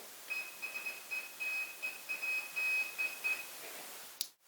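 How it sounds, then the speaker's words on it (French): A lower-pitched Morse code tone comes from a homemade transmitter built around an NE555 chip, keyed into short and longer beeps in an irregular rhythm. It is faint, and a brief click sounds at the end. "ou du morse plus grave."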